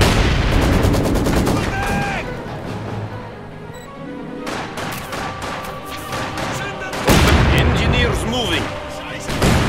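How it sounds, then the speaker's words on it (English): Infantry rifle and machine-gun fire crackles in bursts during a Company of Heroes 2 battle, with booming shots and in-game voices shouting over the fighting. "Infantry shooting at us!"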